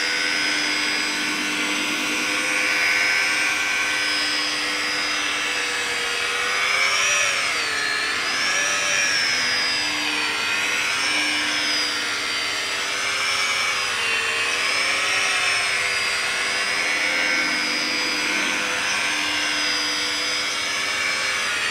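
A car polisher running at its lowest speed gives a steady, loud electric motor whine that wavers slightly in pitch throughout, close up and uninterrupted, with no talking.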